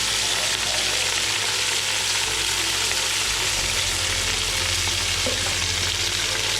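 Mint and coriander leaves fry in hot oil for chicken biryani, giving a loud, continuous close-up sizzle with faint stirring throughout.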